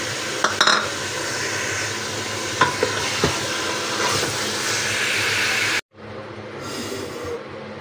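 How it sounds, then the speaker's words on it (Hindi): Beef for shami kebab fries and is stirred in a pan: a steady loud sizzle with scraping clicks from the spoon. It cuts out briefly and then returns more quietly. "अभी हम अपना गोश्त ऐड कर देंगे, अच्छी तरह से भूनेंगे ताकि इसकी महक वगैरह सब निकल जाए।"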